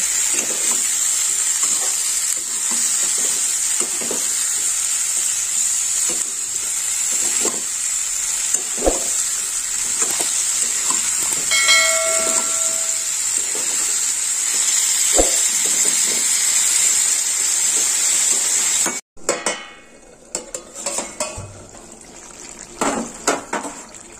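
Cauliflower sautéing in a pan, a steady close sizzle with intermittent spatula scrapes and taps, then a sudden drop in the hiss followed by choppier stirring clatter near the end.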